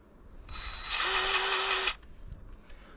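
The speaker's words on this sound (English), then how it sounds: "DeWalt grease gun." A DeWalt battery-powered grease gun pumps grease into a bush hog housing, its motor whirring up into a steady high buzz for about a second before cutting off abruptly, with quiet mechanical clicks around it.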